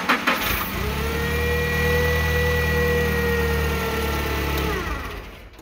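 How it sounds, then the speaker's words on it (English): A Nissan forklift engine cranks a couple of times, catches and settles into a steady mid-pitched idle, loud and close, before cutting off near the end. "you noticed the response that it takes to start up"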